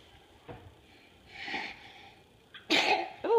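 A few small sniffs and a breathy build-up, then a loud close sneeze bursts out near the end.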